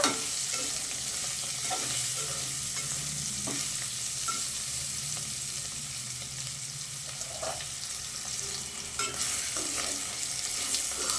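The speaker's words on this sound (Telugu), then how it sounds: "పక్కకు పెట్టుకొని మధ్యలో మధ్యలో కలుపుతూనే ఉండాలండి, కింద మాడిపోకుండా" Bitter gourd masala frying in a pan, a steady hissing sizzle throughout with occasional soft stirring scrapes and clinks, fairly quiet and uninterrupted by talk.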